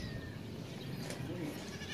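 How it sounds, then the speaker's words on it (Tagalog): A goat at a house construction site bleats faintly amid low outdoor background noise, a brief call without talk. "Kambing niya, Boss Jun, dumarami na"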